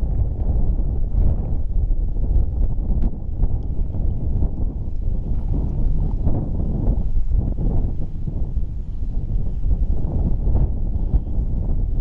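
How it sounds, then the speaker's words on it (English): Wind blows steadily across an outdoor microphone while fly fishing for trout, a loud, continuous low rumble with gusty buffeting throughout and no voices. "The wind's just starting to ease off a little bit."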